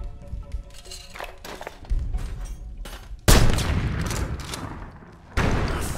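Mortar shells slam down in Sniper Ghost Warrior 2 as a series of heavy booming impacts, the biggest blast near and loud, others rumbling amid gunfire and battlefield noise.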